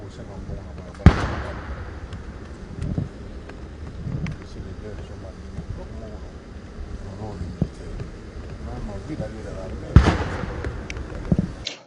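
A 21-gun cannon salute greets the Congolese head of state at a historic ceremonial site in the United States. Two heavy booms land about nine seconds apart under continuous narration, with wind noise and crowd ambience between them.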